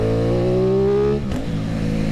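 An Aprilia Tuono 660 motorcycle fitted with an Akrapovic exhaust and dB killer, running a custom map, revs hard close by. Its rising engine note climbs, then drops sharply at a gear change before pulling again, with no talking.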